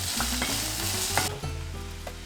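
Chopped garlic and onion frying in olive oil make a loud, close sizzle with bumpy stirring scrapes, then the hiss drops partway through and continues more quietly.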